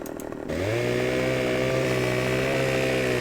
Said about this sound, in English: let's get the chainsaw out and we'll start to fell some of these trees